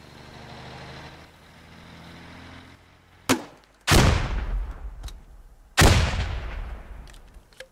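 Frag grenade explosions in a tactical squad shooter game, with a sharp crack followed by two heavy, booming blasts that roll off slowly, over a low idling engine rumble.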